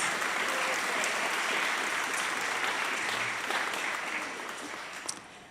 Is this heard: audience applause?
yes